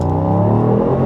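A 2024 Mercedes-AMG GT63 coupé's 585-horsepower engine revs under throttle in Sport Plus mode, a loud, steady, rising engine roar over a brief moment with no talking.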